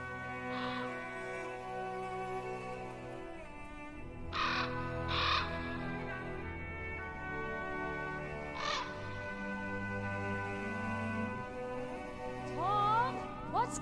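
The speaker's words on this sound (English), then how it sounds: "Crows are never a good sign." Several crows caw in short harsh bursts over a steady low musical drone, with calls spaced apart and one nearer cluster mid-way.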